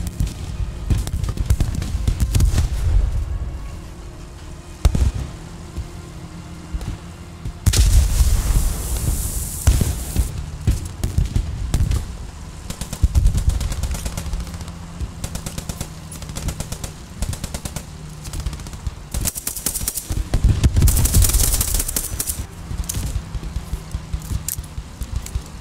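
Machine gun fire in a World War II shooter video game, with dense rattling bursts and heavy booms that swell and fade in waves across a loud battlefield.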